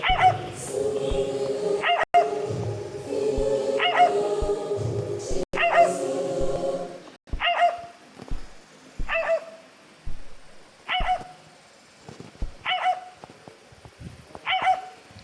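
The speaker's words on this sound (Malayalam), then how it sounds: "പട്ടി" A dog yelps and whimpers repeatedly in high, whiny bursts, first over a busy background, then more alone with short gaps between cries.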